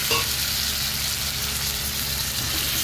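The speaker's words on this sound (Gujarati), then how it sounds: "તો આજે હું લોયામાં બનાવી રહી છું. થોડું સતરવા દઈશું આને, એની અંદર ભરેલા રીંગણા નાખી દઈશું" Stuffed brinjals with potatoes fry in oil in an iron pan and are stirred, giving a loud, steady sizzle with a brief clatter at the start.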